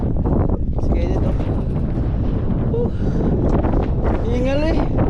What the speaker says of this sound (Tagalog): kumukontra yung hangin